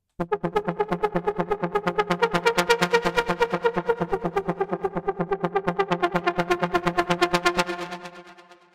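A synth arpeggiator preset for the Diva synth, a deep and melodic house sound, plays a fast, steady stream of repeating pulsed notes with echoing effects, running evenly before fading out at the end.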